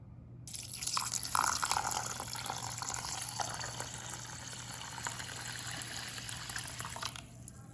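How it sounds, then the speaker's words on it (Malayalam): Water running and splashing into a vessel of washed rice set to soak for meat rice (erachi choru), a steady continuous pour lasting several seconds with no talk. "ഇനി ഇതിലേക്ക് 3 ഗ്ലാസ് വെള്ളം ഒഴിച്ച് ഒരു 20 മിനിറ്റ് സോക്ക് ചെയ്യാൻ വയ്ക്കാം."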